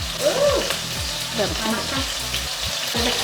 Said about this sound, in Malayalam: എല്ലാ സൈഡും ഒന്ന് ഇതുപോലെ മറിച്ച് ഇട്ട് കൊടുത്തിട്ട് ഫ്രൈ ചെയ്ത്